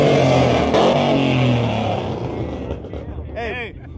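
A Scion FR-S car engine revving, a loud close roar that rises and then fades, with people talking and shouting over it.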